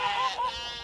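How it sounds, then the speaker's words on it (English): A sheep bleats twice in quick succession, a wavering nasal call heard close by with no talking. "some very hungry sheep by the sounds of it"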